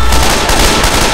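Sustained, dense gunfire from the sniper rifle in Left 4 Dead 2, a loud continuous crackle of shots filling the whole moment without any voices.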